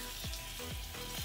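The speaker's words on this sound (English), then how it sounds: "Sizzling away." A banana apple pie sizzles fresh out of the oven, a steady low bubbling hiss with soft repeated pops, close and alone with no talk.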